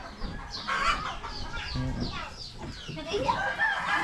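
Chickens cluck around a backyard nesting spot where hens have laid many eggs, with scattered bursts and a possible crow, mixed with steady background noise and some talk.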